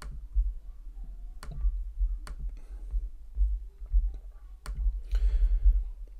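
Sharp, isolated computer mouse clicks, about six of them at uneven intervals, close and crisp over a low steady hum, with no talking.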